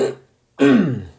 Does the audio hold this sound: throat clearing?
yes